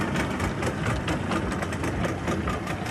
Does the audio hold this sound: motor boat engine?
yes